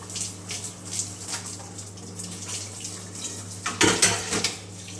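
Tap water runs into a kitchen sink to soak lamb meat for kabsa, a soft steady splashing with dishes clinking now and then and a louder burst of pouring and clatter near the end.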